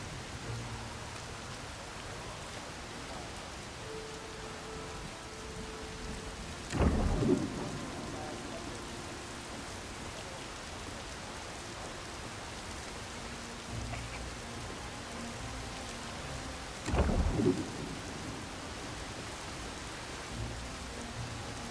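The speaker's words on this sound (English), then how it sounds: "And we've got rain." Steady rainfall hisses throughout in the video game Star Wars Outlaws, broken twice by loud thunder cracks and rumbles, with faint tonal background sounds.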